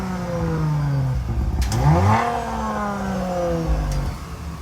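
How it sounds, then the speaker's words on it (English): A Mercedes-AMG G55 engine idles and then revs, its pitch rising and falling through one strong, steady swell, loud and close, with no talk. "Here, start it up. See how it sounds."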